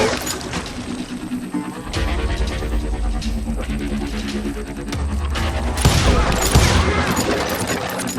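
Gunfire in the Western video game Call of Juarez Gunslinger, a dense battle with overlapping shots, crashes and impacts over a steady music bed, loud and continuous throughout and swelling heavier toward the end.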